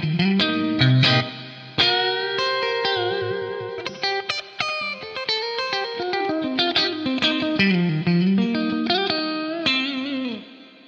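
Electric guitar played through a Boss RV-500 pedal in dual reverb mode: plucked notes and chords ring out with a lush, layered reverb tail and a slight shimmer, loud and close, with no talking.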